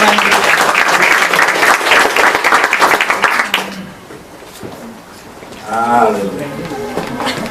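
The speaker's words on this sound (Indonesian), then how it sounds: "Mari kita sambut dengan sekali lagi dengan apresiasi tepuk tangan untuk Pendeta Gilbert" Loud, dense congregation applause in a church service for the pastor, filling the first few seconds before dying away, followed by a voice speaking.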